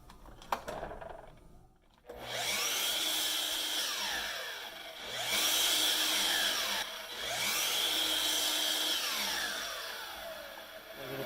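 A power tool cuts dados in wood, making three long, loud whining passes separated by brief dips, after a short quiet start with a few clicks.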